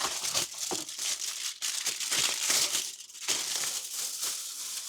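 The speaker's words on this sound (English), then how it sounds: "Need a fairly big bit of foil." A large sheet of aluminium foil being crumpled and scrunched in a kitchen while cooking with onions, a dense crackling rustle that runs almost continuously, close and fairly loud, with a few brief pauses.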